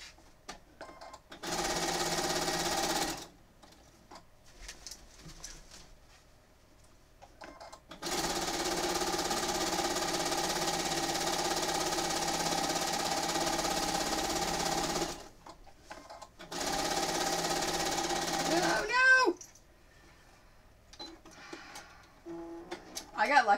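A sewing machine stitching a quilt in a home studio, running in three steady, buzzing stretches of several seconds each, with quiet pauses between them and brief talk at the end.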